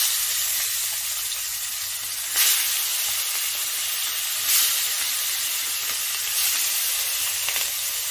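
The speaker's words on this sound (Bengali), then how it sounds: "এবার আমি মাছগুলোকে ভেজে নিচ্ছি।" Catla fish pieces rubbed with salt and turmeric fry in oil in a kadai, giving a soft, steady sizzling hiss with a few brief louder spurts and no one speaking.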